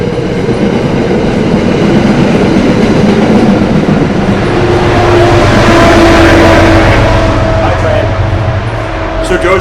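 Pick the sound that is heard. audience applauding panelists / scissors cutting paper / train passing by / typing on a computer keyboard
train passing by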